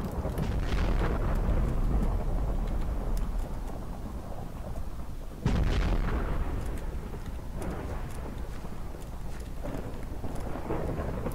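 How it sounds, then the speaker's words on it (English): Deep booming explosions in the Minecraft video game, two heavy broadband blasts about five seconds apart, each trailing into a long loud rumble, with no talking. "Should we figure out what those explosions are?"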